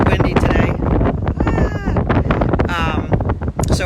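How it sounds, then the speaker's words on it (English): Wind buffets a microphone on an ocean-side balcony as a loud, steady rumbling roar, heard under a person talking close by. "Yep, it's a little windy today."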